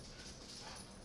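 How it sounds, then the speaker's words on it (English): A dog whimpers and makes soft yips somewhere in a home with several dogs, faint and brief against a hissy background, with no talking. "my roommates have dogs"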